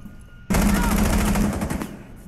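Sustained burst of automatic gunfire in Rainbow Six Siege on the Consulate map, a loud rapid stream of shots lasting over a second with a brief voice over it.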